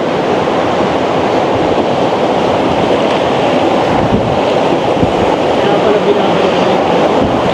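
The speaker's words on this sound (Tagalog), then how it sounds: "Ay, ganda ng falls, oh." Water pours down at the Pagsanjan falls in the Philippines, a loud, continuous roar of rushing water that stays dense and steady throughout.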